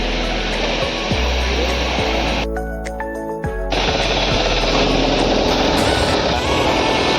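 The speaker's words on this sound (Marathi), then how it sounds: "त्या पट्ट्या वेल्डिंग चालू आहेत आता." Welding of metal strips during fabrication work, a loud continuous crackling buzz with a steady hum that breaks off briefly partway through, then resumes.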